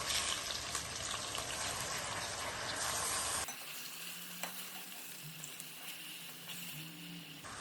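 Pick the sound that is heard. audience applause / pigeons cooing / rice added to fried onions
rice added to fried onions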